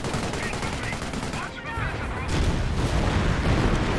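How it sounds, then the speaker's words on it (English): Bolt action rifle fire from a Grenadier in the Company of Heroes video game, sharp gunshot cracks over a dense backdrop of battle noise and other weapons fire, building to heavier continuous gunfire in the second half. "Dangerous crit there from the bolt action rifle from this Grenadier."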